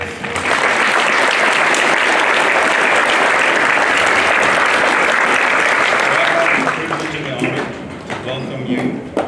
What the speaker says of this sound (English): So I'll give out a big round of applause for all the staff.